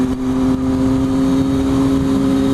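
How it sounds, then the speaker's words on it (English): Triumph Street Triple motorcycle engine droning steadily while riding on a road, a loud constant tonal hum with wind rush and no change in pitch. "These street triples are just fantastic bikes."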